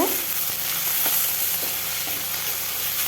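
Kharkhol leaves frying in a pan with salt and a little turmeric, a steady loud sizzle running throughout with faint scraping as they are stirred, no voices.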